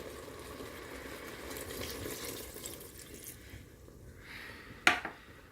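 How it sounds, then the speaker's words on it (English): Water is poured into a pressure cooker along with ginger and meat for Mongolian beef, a quiet, steady trickle that ends in a brief louder splash. "You add 1 cup of water."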